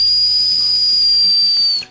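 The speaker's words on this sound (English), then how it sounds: "This tank does tend to get a little noisy when it is on a very restricted airflow." A SMOK Spirals vape tank drawn on a very restricted airflow gives a thin, high, steady whistle that holds for nearly two seconds over a soft hiss of air. It is close and fairly loud, then cuts off abruptly at the end of the draw.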